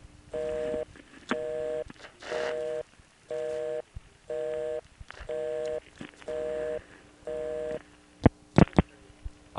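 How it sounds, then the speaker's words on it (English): A telephone busy signal from TSD switching equipment in Warwick repeats in regular on-off bursts, about eight even tones, followed by clicks and a few sharp pulses of line noise. "we get an actual busy signal tone from the TSD equipment in Warwick"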